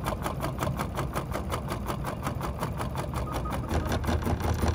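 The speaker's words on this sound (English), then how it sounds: "I'm going to select the basting box. So now I'm just gonna baste around this." An embroidery machine stitches a basting box around a hoop in a steady, rapid, even mechanical rhythm that runs loud and close throughout, with no voices.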